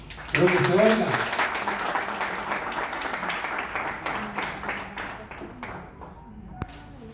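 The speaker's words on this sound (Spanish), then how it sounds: "Un aplauso para Elías." Applause breaks out at a municipal gathering, moderately loud at the start and slowly tapering off, with some voices mixed in under the clapping.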